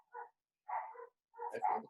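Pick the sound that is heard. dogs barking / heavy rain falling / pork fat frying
dogs barking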